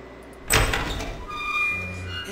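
A door opening in the video game Riven, a single heavy sliding rumble with a sharp onset that trails into a sustained mechanical hum, loud and close with no talk.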